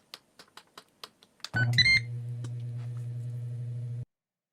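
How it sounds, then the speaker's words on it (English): An air fryer signals the end of a 300-degree, 10-minute cook of buns with a run of short clicks, then a steady electronic tone lasting about two and a half seconds, moderately loud with no talking. "it just beeped saying that they are done"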